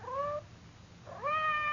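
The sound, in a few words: cat meowing, radio drama sound effect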